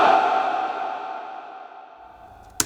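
A tone drenched in reverb rings out and slowly decays over a couple of seconds, ending with a brief sharp click.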